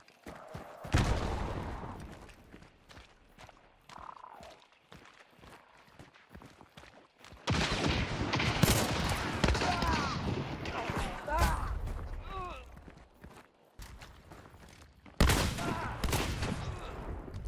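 Bursts of gunfire in the Western-era shooter game Hunt: Showdown, loud shots crackling in several clusters with quieter gaps and footsteps between them.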